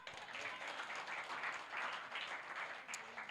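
A church congregation claps together during a sermon by a pastor, a steady dense wash of many hands beating at a moderate level throughout, with no voices on top.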